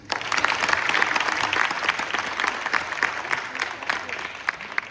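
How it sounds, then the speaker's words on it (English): An audience applauds after a students' Nottuswaram music performance, a full, steady burst of clapping that swells early and slowly thins toward the end. "Could we get another round of applause for them?"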